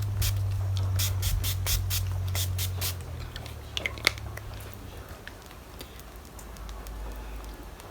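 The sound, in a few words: finishing spray being sprayed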